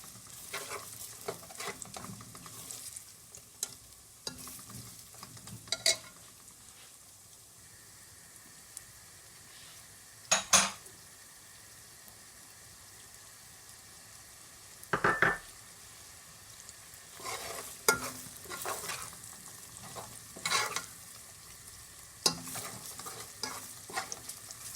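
Garlic and onions frying in a pot for a Guyanese red snapper fish curry, a steady soft sizzle throughout with a few sharp louder clanks of a spoon stirring against the pot, close and without talk.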